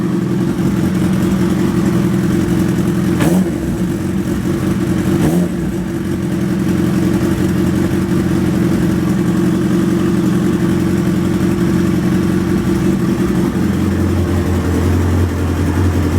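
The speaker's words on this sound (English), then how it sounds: "I just had to adjust the idling there." A Suzuki Hayabusa motorcycle engine idles steadily up close, a constant low throb with a couple of brief sharp clicks, settling to a lower rumble near the end as the idle is adjusted.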